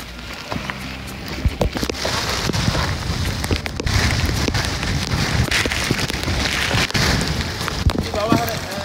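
Steady rain falls on the rocky trail to Segara Anak lake on Mount Rinjani, a dense broadband patter with scattered sharp drops lasting throughout, and faint voices are mixed in beneath it.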